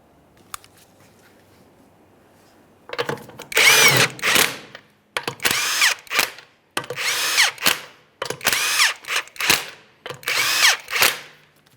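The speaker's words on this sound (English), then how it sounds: "Once you've started on all 5 of your 21mm lug nuts, we're going to bottom these out in a crisscross manner." A power tool tightens the 21mm lug nuts on a 2009-2014 Nissan Maxima wheel, heard as six loud, close bursts of whirring and rattling, each about a second long, separated by short pauses.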